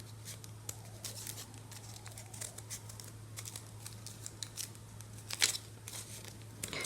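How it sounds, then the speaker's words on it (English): Scissors snip through paper for a Christmas advent calendar craft, a soft run of small close cuts and paper rustles over a low steady hum, with one sharper snip near the end. "You can cut in as many times as you like from this side."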